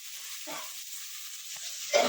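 Tomatoes frying in a pan give off a faint, steady sizzle, with a couple of soft stirring scrapes and a louder burst of sizzling at the end.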